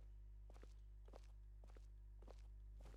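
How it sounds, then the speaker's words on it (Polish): Footsteps in the video game Enderal, five evenly spaced soft thuds pacing along over a steady low hum, fairly quiet and with no talking. "Dobra, nasłuchujmy, aż będą kroki."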